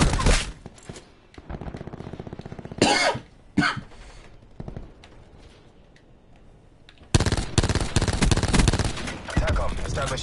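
Call of Duty Black Ops 4 hardcore online play brings loud bursts of gunfire and rapid automatic shots in clusters, separated by quieter game noise.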